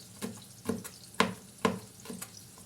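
Food pan-roasting with ground red pepper and garlic, being stirred in a few soft, evenly spaced strokes with light sizzling beneath, close and fairly quiet.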